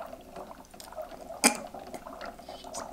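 Faint scattered water drips and trickling off a Barbie Color Reveal doll, with one sharper splash-like drip in the middle, close by and quiet.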